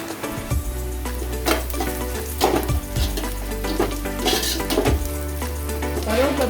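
Curry leaves hitting hot oil with browned onions in a pan for a prawn kulambu: a loud, crackling sizzle with sharp spitting pops and stirring scrapes, close and continuous.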